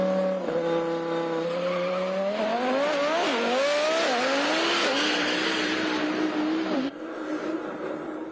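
A time attack race car's engine runs at full throttle at a Bosch Motorsport World Time Attack Challenge event, wailing loud and rising through the revs with some tire squeal before easing off near the end.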